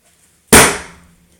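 A single sharp, loud gunshot crack inside a house cuts through near silence, followed by a short decaying echo.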